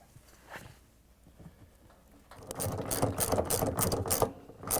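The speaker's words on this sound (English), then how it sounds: "Tighten the bolt with a 13 mm socket wrench." A 13 mm socket wrench tightens a bolt on a Samsung washer shock absorber, giving a quick, close run of rapid ratchet clicks after a quieter lead-in.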